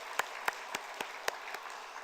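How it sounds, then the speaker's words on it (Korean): Applause during a Sunday church service, heard as roughly seven sharp, evenly spaced claps over about two seconds, moderately loud and close, with no talking. "박수로 축복하겠습니다."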